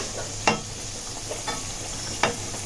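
A Mughlai paratha stuffed with raw potato fries in hot oil spooned over its top, giving a steady soft sizzle broken by a few sharp utensil clinks close by.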